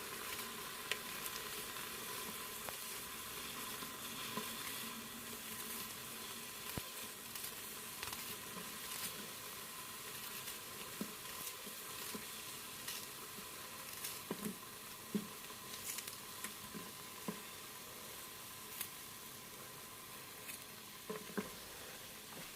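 Onions frying in oil inside an electric multicooker, a steady soft sizzle and patter with faint crackles, heard close up and without talk.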